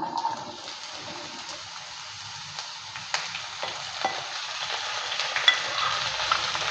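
Bitter gourd and potato pieces are stirred in a pan after onion and garlic were fried, with a soft continuous sizzle broken by scattered scraping clicks of the spatula and no talking.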